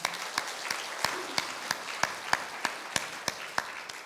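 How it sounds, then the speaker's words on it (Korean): A church congregation claps in a steady, even rhythm during a Sunday service, sharp regular beats standing out over softer scattered applause, heard from a distance. "우리 다 같이 박수 한번 하겠습니다"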